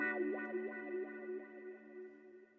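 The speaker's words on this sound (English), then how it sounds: "some of the perks that I've added here is this wah-wah sound" Wah-wah synth effect in a boom bap beat, a sweeping filtered tone that rises and falls in repeated rhythmic swells over a steady sustained drone, with no talking.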